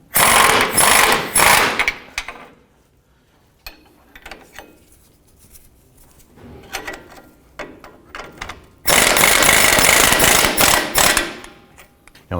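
A ratchet snugs down the front lower control arm bolts on a 2007-17 Jeep Wrangler, with loud, close bursts of rapid clicking at the start and again later, separated by quieter clicks and handling noises.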